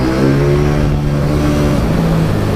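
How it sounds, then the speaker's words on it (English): Exhaust note of a KTM 790 Duke parallel-twin motorcycle, a loud, steady, close engine drone with a rich low harmonic tone that shifts pitch slightly as revs change, no talking. "Which I think is why it delivers such a delicious exhaust note."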